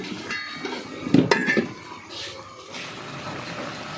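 A metal lid clanks down onto a pan of simmering adobong itlog, a short cluster of close clatter and ringing, followed by soft bubbling with faint voices in the background.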